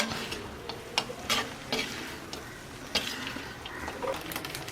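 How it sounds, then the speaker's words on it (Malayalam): A spoon stirs beef kondattam with green chillies and coriander leaves in a pan, giving soft scraping and occasional clinks over a low sizzle. "എല്ലാം കൂടി നന്നായിട്ട് വീണ്ടും മിക്സ് ചെയ്യാം"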